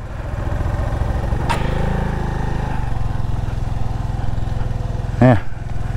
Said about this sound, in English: Hold your clutch there and give it gas.